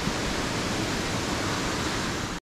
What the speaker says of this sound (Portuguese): Luiz, por que o nome dessa cachoeira é Barata?